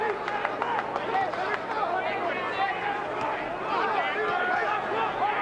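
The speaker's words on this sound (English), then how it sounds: "the crowd now getting behind the underdog, Hayden" A boxing arena crowd at the Andrew Golota vs Darren Hayden fight murmurs and cheers in a steady, moderately distant roar, with scattered shouts rising through it.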